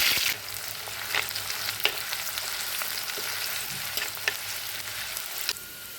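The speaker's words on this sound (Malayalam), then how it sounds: "ഇതിലേക്ക് നമ്മൾ എടുത്തു വെച്ചിരിക്കുന്ന കറിവേപ്പിലയും കുഞ്ഞുള്ളിയും പച്ചമുളകും കൂടി ഇട്ടൊന്ന് വഴട്ടിയെടുക്കാം" Curry leaves, shallots and green chillies sautéing in hot coconut oil, a steady close sizzle with scattered stirring scrapes and clicks from a spoon in the pan, and no voices.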